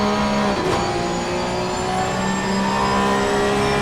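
Porsche Cup race car in a racing video game at Donington Park, its engine droning steadily at high revs with a buzzy harmonic whine, rising slightly as it accelerates, continuous and up close.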